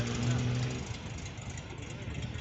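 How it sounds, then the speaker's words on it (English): A Volkswagen Beetle with a 1300 engine runs at a steady, fairly close idle, a low rumbling drone with a brief humming tone early on, heard at an outdoor car gathering at an inn. "and here we have a Volkswagen Beetle."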